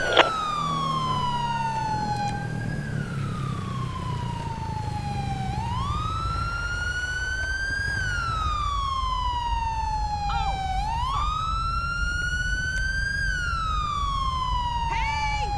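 A police car siren in a GTA V FivePD patrol game wails continuously and loudly, sweeping up and down in long repeated cycles close by, with a low engine rumble underneath.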